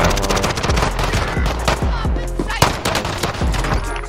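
Automatic gunfire in Call of Duty Warzone, with rapid close bursts of shots repeating steadily alongside game effects and a sharp crack partway through.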